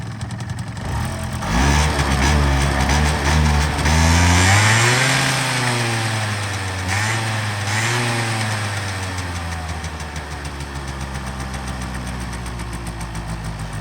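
A Honda Dio AF-34 scooter engine idles steadily up close, its revs briefly climbing and wavering before settling back into an even putter.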